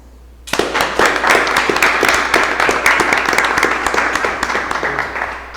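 Applause breaks out suddenly at a city council session, sustained clapping from a modest group, close and steady until the end.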